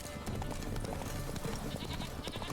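Sheep bleat repeatedly in The Witcher 3: Blood and Wine amid a busy, noisy background, with overlapping calls of moderate loudness.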